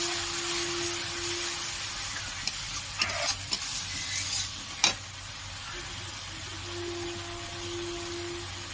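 Tomato paste fries in oil in a kadai for katla fish kalia, giving a steady, fairly loud sizzle with a faint hum. A few brief spoon scrapes and knocks come in the middle, and no one speaks.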